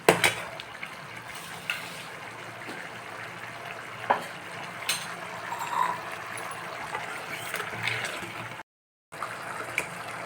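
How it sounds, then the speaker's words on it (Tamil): Vatha kuzhambu bubbling in a pan, a gentle continuous simmer with soft pops and occasional stirring clinks, close and quiet, one brief silent gap near the end. "இது வந்து இப்போது நல்லா கொதிச்சிடுச்சு."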